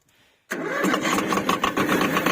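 An old Japanese Yanmar YM1700 tractor engine catches on the first try after a brief quiet moment, then settles straight into a loud, steady, close-up running chug.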